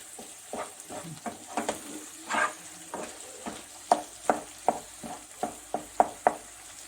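Leeks sautéing in a pan for a leek dish, a soft steady sizzle under repeated sharp clicks and scrapes of a utensil stirring, close and moderately quiet with no voices.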